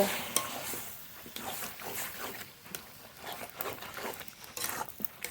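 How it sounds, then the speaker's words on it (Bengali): Spiced desi duck meat is stirred and fried in a pan, giving rhythmic scraping strokes over a moderate sizzle, close and fairly quiet, with no talking. "মশলা মাখানো মাংস দিয়ে দেব এবার খুব ভালো করে নেড়ে নেব"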